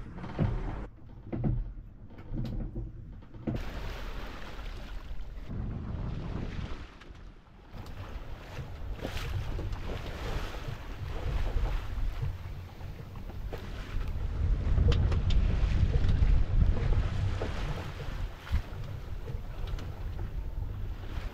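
Wind buffets the microphone while sailing a boat against the current, a steady rushing roar that swells louder midway, with water noise beneath and no talking.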